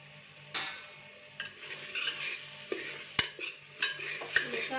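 Spices for chole being stirred in a pan, soft scraping strokes with a few sharp metallic clicks of the spoon against the rim, close and fairly quiet over a faint background hum.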